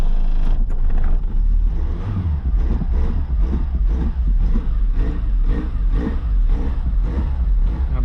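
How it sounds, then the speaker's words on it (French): A Peugeot 205's small engine starts and runs steadily and loudly up close, with a rough, chugging rhythm throughout. "on voit le petit moteur là qui fonctionne"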